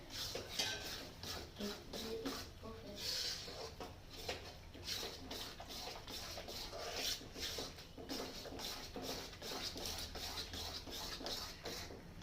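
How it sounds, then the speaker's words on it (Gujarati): Flour being stirred and roasted in ghee in a pan for sukhdi, a spoon scraping and clinking steadily against the metal in close, continuous rubbing strokes with no talk. "આપણે લોટ એમાંથી બુટબુટા થાય એટલો એ રીતના શેકવાનો છે"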